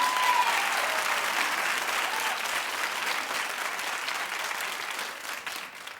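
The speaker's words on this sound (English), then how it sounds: "clap if you think he's using her." A studio audience at a talk show breaks into loud, dense clapping that holds steady for the whole stretch, a continuous wash of many hands with no pause.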